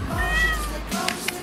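A cat gives one clear, drawn-out meow close to the listener, then a couple of faint softer sounds follow. No one talks.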